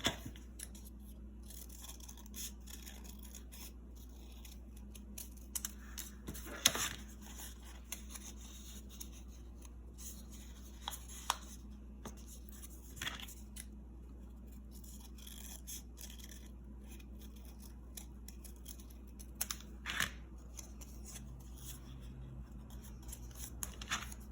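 Scissors cutting a sheet of card into three strips for a handmade heart card, a series of faint, close snips and slicing strokes spread unevenly over quiet room tone, with no talking.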